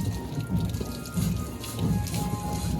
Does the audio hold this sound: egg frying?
no